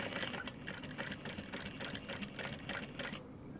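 A sewing machine stitches a tote bag in a steady, rapid mechanical run that continues close and even before stopping abruptly near the end.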